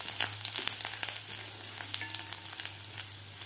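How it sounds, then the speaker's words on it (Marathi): Chopped ginger and garlic frying in a pan over high gas heat, a steady close-up sizzle with scattered sharp crackles and pops throughout, with no voices. "चॉप करून घेतलेलं आलं आणि लसूण आपल्याला हे परतून घ्यायचं आहे।"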